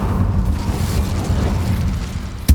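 An Incendio fire spell is cast in Hogwarts Legacy, producing a sustained rumbling, roaring burst of flame with heavy low-end body that runs for a couple of seconds and ends in a sharp final thump.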